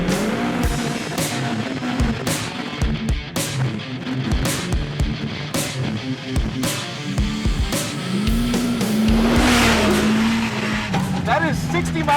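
Off-road vehicle driving fast over whoops, with a loud engine rising and falling over repeated bumps and thumps, and people talking over the noise.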